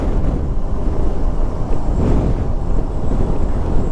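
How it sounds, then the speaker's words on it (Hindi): Strong wind on a high-altitude mountain road between Hanle and Tso Kar in Ladakh buffets the microphone in a constant loud roar, rumbling and gusting without pause, with no voices heard. "बहुत तेज़ हवाएं चल रही है"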